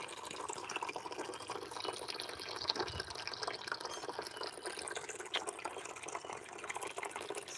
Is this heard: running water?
yes